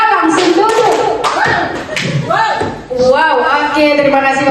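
Participants at a teacher workshop clapping through a counted ice-breaker pattern, several separate loud bursts of claps with gaps between them, close and mixed with spoken voices throughout.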